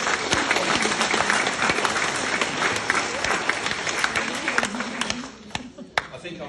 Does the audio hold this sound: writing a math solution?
no